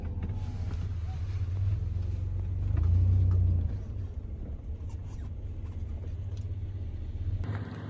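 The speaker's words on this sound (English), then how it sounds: "Little traffic jam on the way home." Traffic moves slowly in a jam on a valley road in the Caucasus Mountains of Georgia: a steady low engine rumble with a louder swell as a vehicle passes near, then a continued idling hum.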